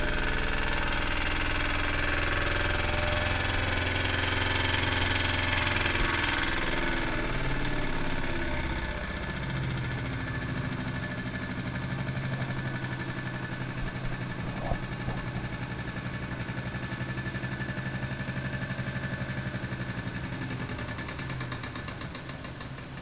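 A Jensen #60 model steam engine, fitted with a ball bearing conversion on the drive shaft and run at 30 PSI, chugs and knocks steadily and fairly loud at close range, with no talking throughout.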